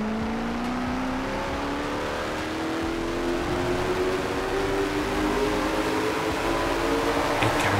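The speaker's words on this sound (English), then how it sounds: "It kinda sound like a muscle car, man." A throaty muscle car engine in the video game Forza Horizon 4 revs and climbs in pitch, a continuous rising drone that swells slightly louder toward the end.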